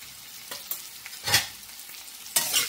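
Garam masala and red chili powder are stirred into spiny gourd (kantola) frying in a pan over high heat, with a few brisk scraping strokes over a soft, steady sizzle.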